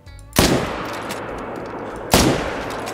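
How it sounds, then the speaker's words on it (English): A hunting rifle fires at a deer in the video game Call of the Wild: two loud, close shots about two seconds apart, each with a booming echo that rolls away. "I'm just gonna shoot the one."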